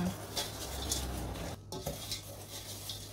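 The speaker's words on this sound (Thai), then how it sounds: "เอาบิสกิตมา คลุกเคล้าให้เข้ากันกับเนยแบบนี้นะคะ" Biscuit crumbs are stirred into melted butter in a bowl for a cheesecake base, with steady scraping and clinking of a utensil against the dish, close and continuous, broken by a brief pause.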